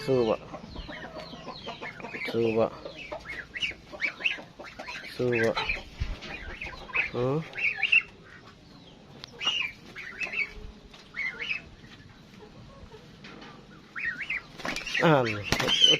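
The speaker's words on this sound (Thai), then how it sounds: "ห่านสู้วะ" Fighting geese honk and squawk in harsh, agitated bursts amid scuffling and flapping, with people talking over the commotion.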